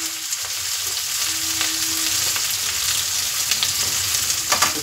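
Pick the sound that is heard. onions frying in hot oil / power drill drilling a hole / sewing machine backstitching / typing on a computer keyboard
onions frying in hot oil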